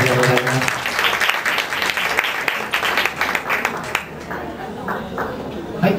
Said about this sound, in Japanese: グレースノートの皆様にもう一度盛大な拍手をお願いいたします。